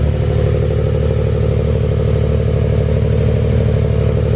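A Nissan Skyline engine idles loud and close after being cranked, a steady, even mechanical clatter and throb that holds without change and without talk.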